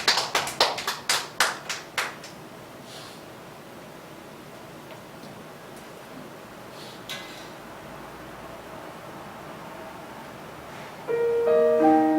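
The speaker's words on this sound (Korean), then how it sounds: "우리 동료의 박수" About eight sharp hand claps ring out in quick succession in a church during a Sunday praise concert, then fade into quiet room hiss before music enters near the end.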